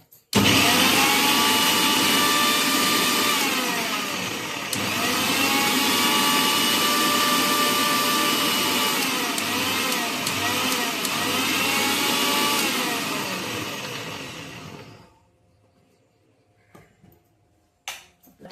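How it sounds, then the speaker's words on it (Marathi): A mixer grinder whirs loudly and steadily while grinding spices with turmeric, its motor pitch wavering slightly with the load before it cuts off and leaves near silence with a few faint knocks. "आता आपण आपल्या मिक्सरला वाटून घेऊया"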